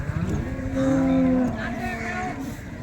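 A cow or calf at a busy Tuesday cattle market in Loni, Maharashtra, gives one drawn-out moo close by, with the murmur of the crowd behind it.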